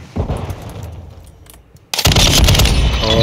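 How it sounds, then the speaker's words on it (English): A gun fires in the video game Modern Warfare 2, a loud, sustained burst of close automatic shots that cuts in abruptly after quieter game noise. "Gun is loud as hell. I like it."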